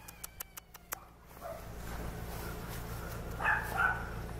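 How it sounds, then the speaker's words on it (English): Several quick, sharp yips from two puppies in a rapid burst, followed by faint whimpers and rustling in a quiet room. "Look at the puppies."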